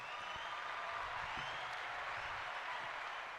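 Scattered applause for a guest on a podcast, a soft, thin patter of a few hands clapping, fairly faint and distant over a steady room hiss.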